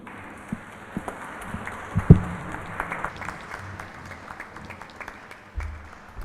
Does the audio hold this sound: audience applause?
yes